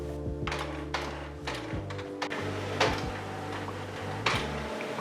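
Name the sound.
Canon MAXIFY inkjet printer priming ink after print head replacement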